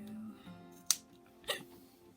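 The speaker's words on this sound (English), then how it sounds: "somebody be having the hiccups" Two sharp hiccups about half a second apart, close and fairly loud, over a quiet low hum with faint background sound.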